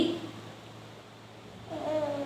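A cat gives a couple of faint, short meows, one near the start and one at the end, over a quiet indoor background.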